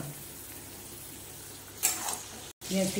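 Marinated chicken, for a yogurt chicken stew, sizzling and frying in a pan, with a soft steady crackle, a brief louder burst of stirring, a momentary cutout, and a faint voice near the end.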